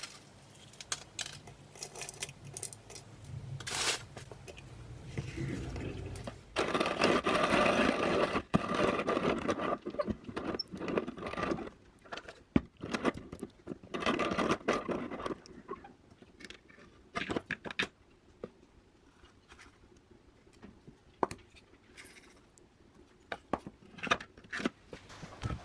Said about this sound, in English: I'm going to do the rest processed by hand, more traditionally with a coffee grinder